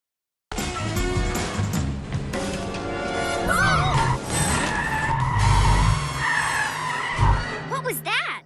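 An animated cartoon cat car skids with squealing tires amid upbeat music and sound effects, loud and close, with character voices around it.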